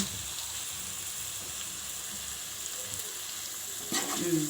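Vegetables frying in oil for restaurant-style Schezwan fried rice give a soft, steady sizzle close by, ending with a short clatter.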